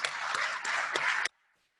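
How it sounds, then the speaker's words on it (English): An awards-event audience claps in a dense, steady round for about a second before cutting off abruptly into near silence. "Let's give them all one more round of applause."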